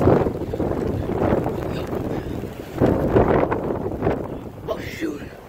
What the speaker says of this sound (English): you hear this strong wind.